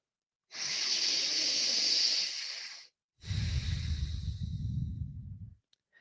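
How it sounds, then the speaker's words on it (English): Breathwork session for mountain athletes: one long, close, steady nasal inhale, a brief pause, then a long audible exhale with a rough, airy texture, each lasting a couple of seconds, with no talking. "Inhale deeply through the nose. Exhale passively through the nose or the mouth."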